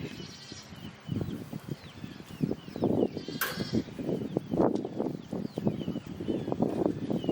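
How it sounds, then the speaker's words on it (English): A baby goat bleats repeatedly and insistently nearby, its cries rising and falling over soft outdoor background noise with no talking. "My neighbor has a baby goat. He's a little goat. And he just keeps going."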